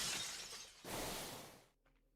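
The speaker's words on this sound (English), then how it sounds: "Why is it raining glass?" Glass shatters in a video game, two quick crashing bursts of breaking glass that fade into a faint tinkle, fairly quiet, with no talk.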